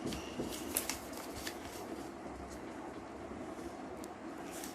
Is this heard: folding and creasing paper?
yes